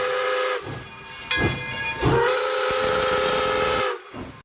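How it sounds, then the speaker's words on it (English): A steam locomotive whistle blowing two long, loud, close shrieking blasts with a short hissing break between them and a rush of steam at the start. "Steam locomotive whistle."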